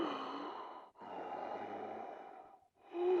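Heavy, slow breathing over a phone line, two long drawn breaths with short pauses between, close and fairly soft with no words.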